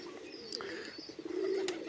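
Pigeons, a mix of young and old birds, coo softly at a moderate distance, with a low steady murmur swelling in the second half and a faint chirp near the start.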